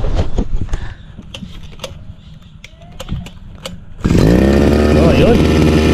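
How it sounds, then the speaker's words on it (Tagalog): A two-stroke grass cutter engine is pulled and then roars to life, running loud and steady with a buzzing, revving drone after a series of sharp clicks and knocks on a farm. "Try natin yung grass cutter, maandar."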